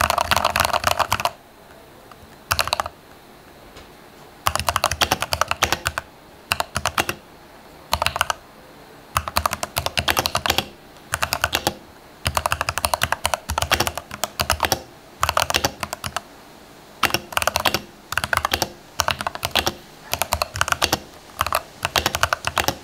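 Typing on a budget mechanical keyboard, close and clear, with bursts of rapid key clacks separated by short pauses throughout, no talking.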